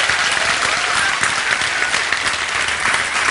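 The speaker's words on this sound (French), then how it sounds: "je voudrais que vous applaudissiez" An audience at a video game masterclass claps steadily and loudly throughout, dense continuous applause with no pauses.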